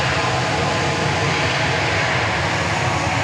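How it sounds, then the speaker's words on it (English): A Southwest Airlines airliner in the Illinois One livery roars steadily at Dallas Love Field after dark, a loud, continuous engine rush with no break or talk. "That's the Southwest Airlines Illinois 1 livery."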